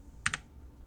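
A couple of quick computer keyboard keystrokes tap out a new file name, two close clicks near the mic in an otherwise quiet room.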